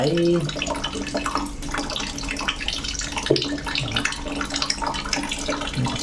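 Water running and splashing beside a snail egg-collecting spot on an integrated farm, a steady busy trickle with scattered drips, loud and close, with a voice talking over it.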